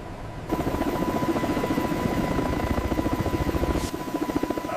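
A helicopter flying nearby, its rotor producing a steady rapid chopping throb with a constant engine whine, loud and unbroken.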